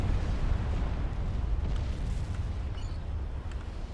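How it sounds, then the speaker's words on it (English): A UEF nuclear blast in the real-time strategy game Supreme Commander: Forged Alliance, a loud deep boom that rumbles and slowly fades over several seconds with a few faint crackles. "A very pretty explosion, the UEF explosions always are."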